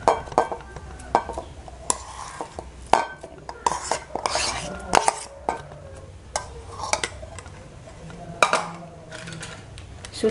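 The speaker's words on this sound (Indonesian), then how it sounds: "Sekarang kita campur semua bahan-bahannya ya" Sugar and mashed potato being stirred together in a bowl for soft potato bread rolls, heard as quiet, irregular spoon scrapes and clinks against the bowl, close and alone.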